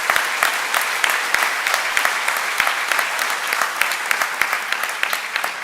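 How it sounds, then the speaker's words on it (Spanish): Audience at a planning and foresight congress applauding steadily, a dense wash of many hands clapping with sharp individual claps standing out, sustained and fairly loud throughout. "Un aplauso para todas esas personas que están ahí presentes."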